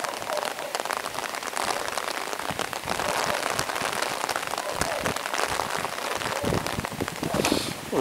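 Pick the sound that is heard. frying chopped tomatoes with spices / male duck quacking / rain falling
rain falling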